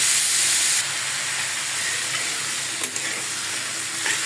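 Pumpkin bhaji seasoned with turmeric and salt fries in a pan with a loud, continuous sizzling hiss that eases slightly after the first second, broken by a few small pops and no voices.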